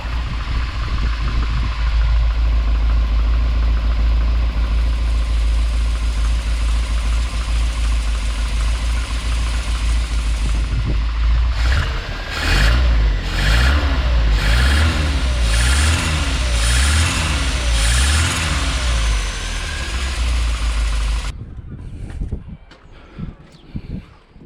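Triumph TR7 engine idling at roughly 650 to 700 rpm, a steady, loud, close rumble with some uneven pulsing and a few blips of revving before it cuts off near the end.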